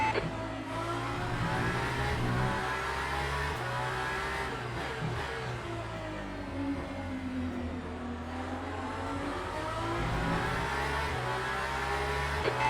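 Race car engines in Le Mans Ultimate at Imola hum steadily and loud throughout, a continuous mid-pitched drone with gentle rises and falls as cars run close together in traffic.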